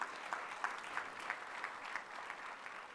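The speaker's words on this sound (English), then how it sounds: "I'm sure you guys can do a better job of clapping for yourself, clapping for us." Students applauding at a college orientation event at a commerce and finance institute, a steady wash of many hands clapping together from a distance, with a few sharper accents early on.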